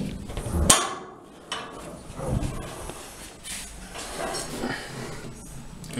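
A door on a Bedford CA van with freshly worked bodywork shuts with one sharp, solid metallic slam early on, followed by quieter clunks and handling noises nearby.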